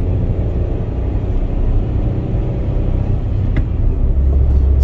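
Heavy truck hauling a shipping container on the BR 282 highway, a steady loud road rumble with broadband engine and tyre noise holding constant throughout, no voices.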